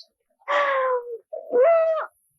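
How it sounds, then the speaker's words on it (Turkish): Owl-like hoots in a Turkish comedy film scene: two drawn-out, tonal calls in close succession, fairly loud and near, with no talk over them. "Baykuş."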